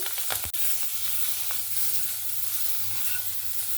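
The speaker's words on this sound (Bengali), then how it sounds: "ক্যাপসিকামটাকেও হালকা করে একটু ভেজে নেব।" Capsicum frying lightly in a karahi for a desi chicken dish gives a steady, close sizzle and hiss throughout, with a few sharp clicks of stirring near the start.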